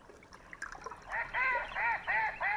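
Wild geese and shelducks on a lake give a run of about four loud, nasal honks in steady rhythm, close and clear above faint background noise.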